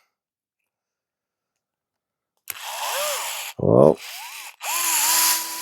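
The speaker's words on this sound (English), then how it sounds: "Take your button head screw, and let's start putting screws in." A power driver whirs in three short runs, rising and falling in pitch, as button head screws go into a 3Racing Sakura D6 RC car chassis, with a brief spoken exclamation between bursts after initial silence.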